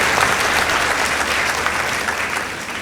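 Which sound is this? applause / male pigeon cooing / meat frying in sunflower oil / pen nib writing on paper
applause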